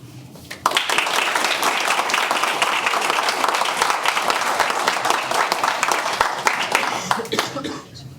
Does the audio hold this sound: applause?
yes